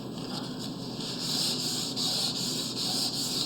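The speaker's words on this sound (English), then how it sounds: "So when you're sanding Danish oil or any type of finish" Wet, waterproof sandpaper rubs over a Danish oil finish in a steady, close, soft scrubbing hiss with faint rhythmic strokes, heard alone.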